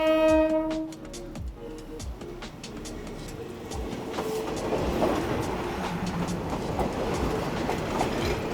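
Train rolling along a track that runs through a Bangkok street market, a steady rumble and rail clatter building in loudness after an early horn-like tone, close by and with no talk.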